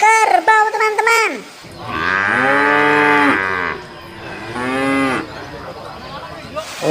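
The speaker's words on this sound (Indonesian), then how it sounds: "Wow, wow, wow, ini kerbau teman-teman." A water buffalo lows in loud, drawn-out groaning calls up close, with a short bright animal cry just before them.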